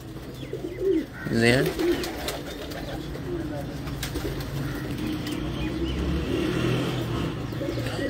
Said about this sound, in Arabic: وما شاء الله يعني هذا حمام